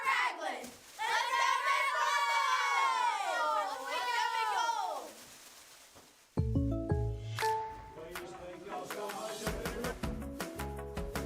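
The Ragland Purple Devils cheer squad cheers, with young voices shouting and chanting in loud, high, excited bursts, followed by a sharp cut to a bright musical jingle.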